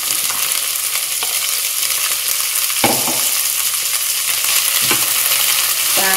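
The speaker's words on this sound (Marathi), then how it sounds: "थोडंसं तेल आपलं गरम झालेलं आहे, शेंगा पण या भाजून घ्यायच्या" Radish seed pods fry in a little hot oil with a dense, even crackle, and a couple of sharp spatula knocks stand out against the pan.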